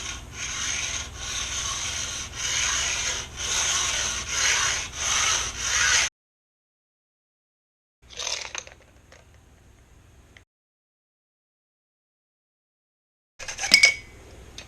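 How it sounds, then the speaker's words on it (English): Hacksaw blade sawing through carbon fiber, a steady rasping cut lasting about six seconds, then silence, a brief scrape, a faint trailing rub, and a final short gritty stroke. "make sure with the hacksaw you go straight"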